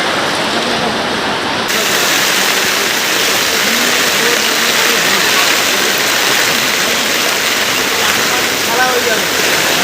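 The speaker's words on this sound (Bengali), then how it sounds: "বৃষ্টিও শুরু হয়েছে আমাদের এখানে খুব সুন্দর বৃষ্টি" Continuous dense hiss of steady rain in the Sundarbans, loud and even across the whole stretch, with a faint engine-like rumble underneath.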